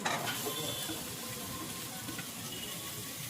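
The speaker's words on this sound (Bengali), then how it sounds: "এবার দিয়ে দেবো ক্যাপসিকাম কুচি।" Chopped capsicum frying in a pan for a Mexican-style dish, a continuous dense sizzle with a watery hiss throughout.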